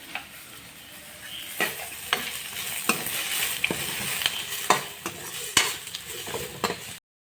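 Onions fry in a pan over low gas with a soft steady sizzle, punctuated by repeated sharp scrapes and clinks of a spoon stirring against the pan, close and fairly quiet.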